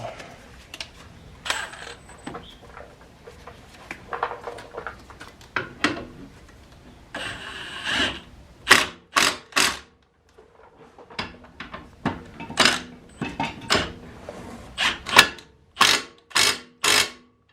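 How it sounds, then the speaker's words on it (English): An impact wrench tightens brake bolts on a 2007–2013 Mercedes S550, with quiet tool clatter first, then a run of short, loud, close rattling bursts. "so I'm gonna tighten them up with my impact"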